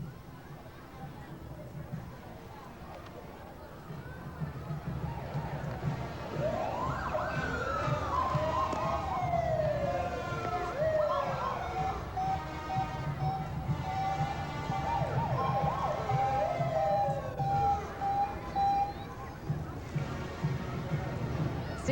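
Police motorcycle escort leading a fair parade, with wailing and yelping sirens rising and falling through the middle of the stretch over engine rumble and crowd noise, growing louder as the riders pass, then fading.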